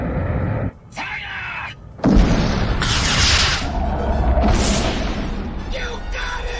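Artillery cannon blast from a Decepticon ship's opened artillery hatch in a Transformers cartoon, a loud boom and roaring explosion under dense action effects, with a brief dropout before the blast and a groaning voice.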